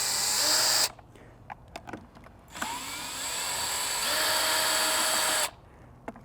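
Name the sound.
power drill with extended Phillips bit loosening screws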